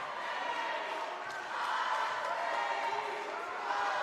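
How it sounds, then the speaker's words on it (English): A basketball crowd on its feet at a national prep championship game, filling the arena with a steady roar of cheering and shouting that stays loud and even throughout. "Pretty much the entire crowd on their feet."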